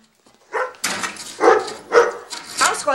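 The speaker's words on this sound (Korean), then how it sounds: "개 짖는 소리에 현관으로 나가는데" A dog in a thriller film barks repeatedly, several loud, sharp barks in quick succession after a brief quiet start, close to the listener.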